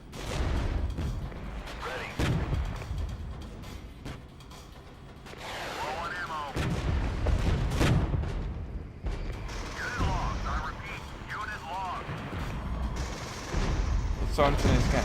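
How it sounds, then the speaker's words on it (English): Artillery strike in the strategy game Regiments: heavy booming blasts and rumbling impacts at intervals, some close and loud, others more distant, mixed with battle noise and occasional voices. "Oh, artillery strike."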